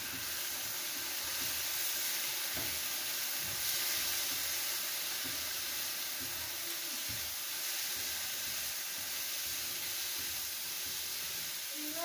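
Vegetables for a bread roll filling frying in a pan with vinegar, a steady close sizzle and hiss running evenly throughout with no talking.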